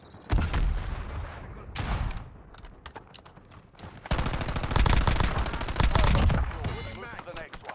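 Bursts of rapid automatic gunfire in a first-person shooter video game, loud and clustered with short gaps between volleys, while a voice talks intermittently over it.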